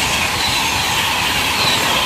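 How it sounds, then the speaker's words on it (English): LNER A3 steam locomotive 60103 Flying Scotsman running non-stop through Arlesey station on the East Coast Main Line, giving a loud, steady, close rush of rolling wheels and train noise with no talking. "Passing straight through the main line at Arlesey is 8225 Flying Scotsman"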